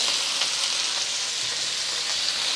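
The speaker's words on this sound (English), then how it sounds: "we're going to put half the beef in to cook. Let it sit and sear for just a minute" Beef pieces searing in a hot pan for a Chinese takeout-style dish, a steady loud sizzle with crackling oil spits and no talking.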